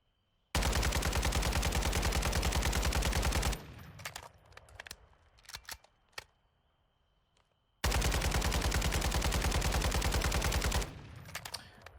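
Sustained automatic gunfire from a rifle fitted with a VLK 4.0 optic in Warzone 2.0, two long unbroken bursts at close range, each about three seconds, separated by quiet reloading clicks and handling.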